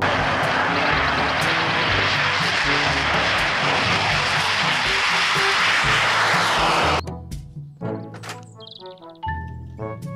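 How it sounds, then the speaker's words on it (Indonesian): A loud, steady jet engine roar fills most of the clip, then cuts off abruptly, leaving a few faint knocks and clicks. "pesawat jet tempur."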